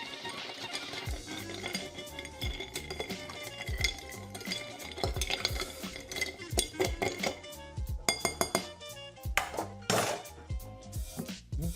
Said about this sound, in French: Mettre quelques tours de cuillère pour ajouter un petit peu d'eau et de dilution à ce cocktail